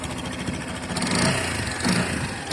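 A motorcycle engine idles close by with a steady, even rumble and a thin exhaust whistle riding on top, swelling slightly twice as it revs up a little.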